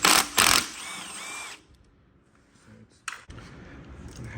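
Power tool working a 14 mm flywheel nut on a 2024 Tao Tao DB14 dirt bike: two short loud bursts, a whining spin-up that trails off, then quiet, then another brief burst and some faint clatter.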